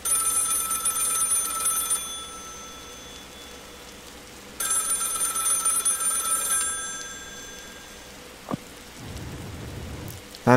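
A telephone rings during a 911 call in the video game Holbrook Hotel: two long ring bursts over steady heavy rain, then a short thud and a low rumble near the end.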